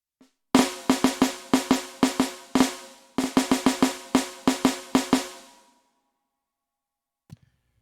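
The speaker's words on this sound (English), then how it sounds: "here's an example of something that isn't a linear pattern on the drums" Close, dry drum kit hits in an uneven, gapped pattern, with bursts of quick strokes separated by pauses, each hit decaying fast, then a lone faint tap after a silence.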